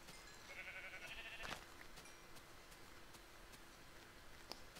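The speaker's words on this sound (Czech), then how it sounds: "Wow, další ovce." A Minecraft sheep bleats in a steady wavering tone for about a second, followed by a sharp thump, over a quiet background hiss with faint clicks.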